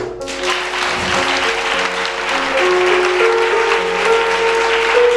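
A church congregation applauds in sustained, dense clapping that swells slightly, with steady musical tones sounding underneath.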